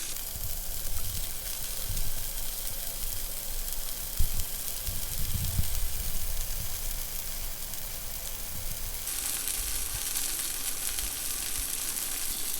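French fries being refried sizzle in hot oil with a dense, steady crackle, a few louder bubbling bursts in the middle and the hiss brightening near the end.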